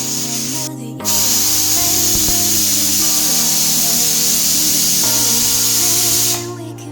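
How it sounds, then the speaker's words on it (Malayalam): A steady, loud hiss of steam jets from a pressure cooker valve, with a shrill whistle tone riding on top, running continuously for several seconds. "അപ്പോൾ അടുത്ത വിസിൽ വരാൻ പോകുന്നുണ്ട്."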